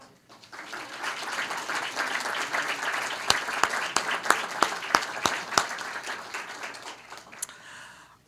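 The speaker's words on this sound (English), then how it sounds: "I'm going to ask all of you to stand so we can give you a round of applause." An audience at a business panel event applauds standing study trip organisers, a steady crowd wash of clapping with several sharp, loud individual claps standing out near the middle before it fades.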